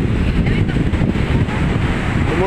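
Big sea waves on a shore pounded by very strong wind, a loud continuous roar of surf and wind buffeting the microphone at high tide, with no clear voices over it.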